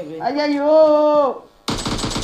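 Gunfire in PUBG Mobile Lite: after a long tonal in-game sound, a loud dense burst of rapid shots breaks in near the end, close and harsh.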